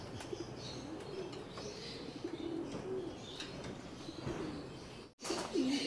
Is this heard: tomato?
no